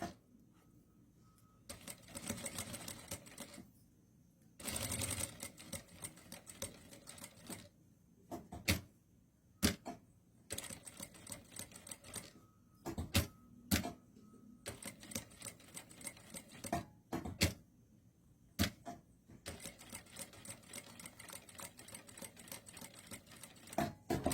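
Domestic sewing machine stitching a seam on a dress collar, running in short quiet bursts of rapid mechanical rattling separated by pauses, close and fairly soft.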